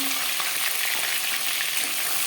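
Tilapia sizzles in hot oil, a close, dense, unbroken frying hiss with faint crackles running evenly throughout.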